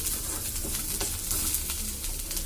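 Salted onions fry in a pan for a restaurant-style fish fry, giving a brief, steady close sizzle with soft stirring scrapes and no speech.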